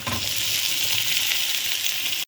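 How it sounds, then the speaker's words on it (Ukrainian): Sliced zucchini sizzling with onion in a frying pan, a loud, continuous close hiss throughout that cuts off abruptly at the end, with no voices. "Різані кабачки додаємо до нашої цибульки."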